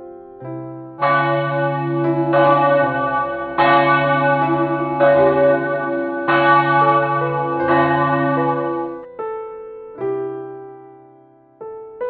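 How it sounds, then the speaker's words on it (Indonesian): Church bells ring out in a loud, resonant peal, several tones striking in sequence with long ringing decay between strikes, at an HKBP church in Menteng. "suara lonceng mulai terdengar ke seluruh penjuru dunia"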